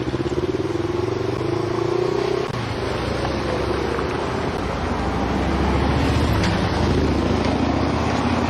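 An American car drives past on a city street in Ekaterinburg, a loud steady engine drone that shifts in pitch as it passes amid ongoing traffic noise.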